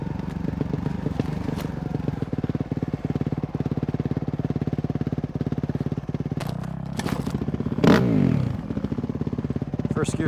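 A KTM or Suzuki dirt bike rides a narrow single track trail, its engine buzzing steadily and close with a rough, pulsing note, a brief throttle surge and clatter near the end, and a voice talking over it.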